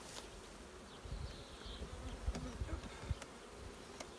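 Honey bees buzzing around an opened hive during a colony split, a dense close hum with individual bees droning past and occasional soft knocks and handling thumps.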